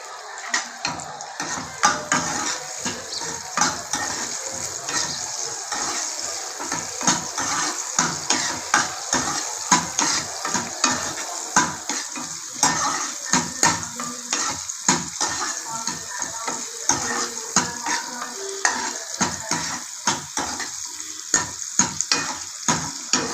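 Onions fry in hot oil for a chicken kulambu, a steady loud sizzle broken by repeated scraping stirs of a spoon against the pan, with no voices.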